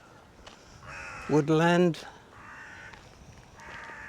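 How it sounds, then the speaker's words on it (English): Several crows caw in a short burst in an open woodland beside a canal, loud and fairly close, with faint calls continuing around them and a person speaking over the scene. "And can you hear those crows?"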